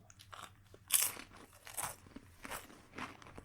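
Crunchy bites into expired edible worms, a few crisp crackling bursts spaced about a second apart, close and fairly quiet with no talking.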